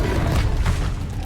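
Expelliarmus spell in Hogwarts Legacy, a deep booming blast with a sustained low roar lasting over a second, loud and near, heard alone without speech.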